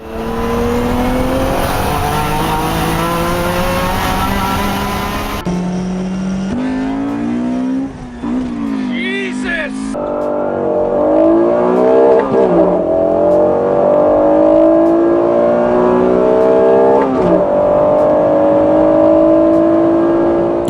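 A Honda NSX engine revs hard as its VTEC engages at 5500 rpm: a loud, sustained rising engine note that climbs through gear changes, then switches to a harder, sharper howl, heard close and alone.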